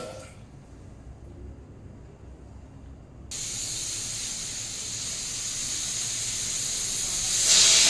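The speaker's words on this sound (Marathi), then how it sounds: "3 शिट्या झालेल्या आहेत कुकरच्या." A pressure cooker on the stove with basmati rice for rice kheer bursts into a loud, steady steam hiss partway through after a quieter stretch, the whistle rising and building toward the end.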